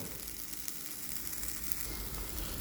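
Moong dal for halwa is stirred in a pan over a low flame, giving a constant soft sizzle with faint scraping underneath.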